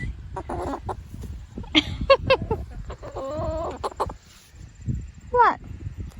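Backyard hens clucking and squawking up close in uneven bursts, one rising call near the end, with occasional human speech mixed in.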